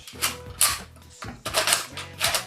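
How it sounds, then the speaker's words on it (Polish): Three bursts of plastic mechanical clicking and ratcheting as a toy gun is reloaded, each a quick pull-back sound, close and fairly loud. "Więc jeszcze raz, przeładowujemy, pociągamy papier dwa razy"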